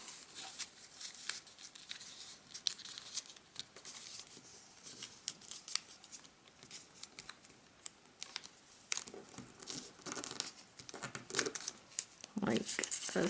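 Paper being folded for an origami bull, with close crisp crinkling, creasing and rustling in irregular bursts throughout.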